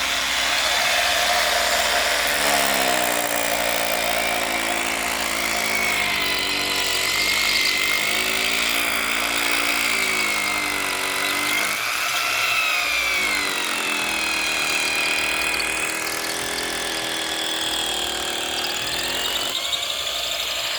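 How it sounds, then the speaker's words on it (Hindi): A power drill bores a hole into a wall at a farm, grinding loudly and steadily with shifting pitch for the whole stretch, with no speech over it. "और ये छेद हो रहा है दीवार में"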